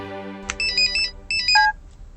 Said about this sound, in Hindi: बार बार क्यों फोन कर रहे हो?